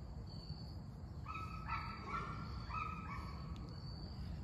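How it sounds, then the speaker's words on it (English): A puppy barking far off outdoors, a few faint high yips over steady low background noise. "And there's somebody's puppy."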